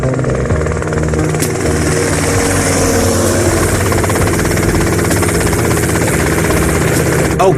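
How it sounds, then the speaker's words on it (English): A helicopter in GTA Vice City drones steadily with a loud, close rotor chop and engine roar that holds constant throughout. "that's them in the chopper"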